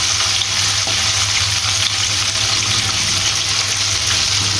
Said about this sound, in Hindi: जितनी देर हमारे पीस फ्राई हो रहे हैं